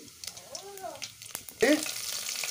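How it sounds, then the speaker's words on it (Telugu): Mustard seeds and cumin hit hot oil with a sudden burst of sizzling that keeps crackling steadily, preceded by a short voice and some clinks. "ఇలా ఆయిల్ వేడైన తర్వాత ఇందులో ఆవాలు జీలకర్రను అయితే యాడ్ చేసుకోవాలి."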